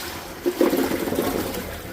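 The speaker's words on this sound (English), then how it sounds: "I'm going to take my potatoes, which are soaking in cold water, and I'm going to dump them out" Potatoes that had been soaking in cold water get dumped out into a sink, giving a steady rushing pour and splash of water that runs on without a break, with no talk over it.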